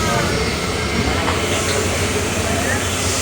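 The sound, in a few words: train stopping at Ibrahimabad rail station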